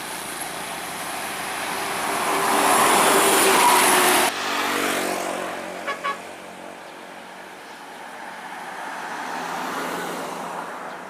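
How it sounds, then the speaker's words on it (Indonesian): Intercity TMH bus from Medan bound for Jambi rushes past on a highway, a loud, close roar of engine and road noise that cuts off suddenly, then fades into quieter distant traffic. "Bus TMH dari Medan menuju Jambi."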